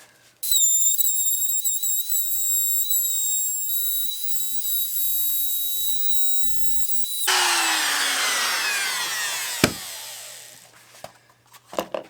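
Wood being cut out on a McNaughton Center Saver coring rig: a steady high machine whine runs alone, then a loud, rough cutting roar takes over, ends with a sharp knock, and fades out.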